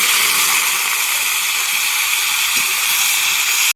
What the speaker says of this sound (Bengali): কুমড়ো ভাজা হচ্ছে